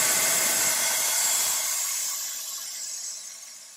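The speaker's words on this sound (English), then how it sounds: "You release the pressure by continually pressing the white button until you hear the pressure releasing." Pressurized air hisses out of an Essix dental thermoforming machine, a loud steady close rush that gradually fades and thins toward the end, no voices.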